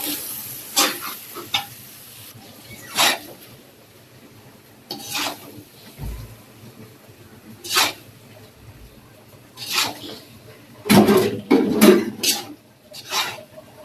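Noodles tipped into a pan and stirred for an Iftar meal, giving repeated bursts of scraping and clattering against the pan over a soft sizzle, several strokes spread across the stretch with a denser flurry near the end.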